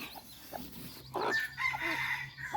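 Baby chicks cheep with thin, high peeps over a low background hum, some rustling and handling noises mixed in.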